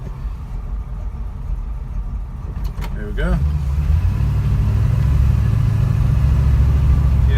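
A white and blue Mustang coupe from Gables Motor Company idles with a low rumble, then pulls away as the engine note rises and swells into a steady louder drone; someone speaks briefly over the idle.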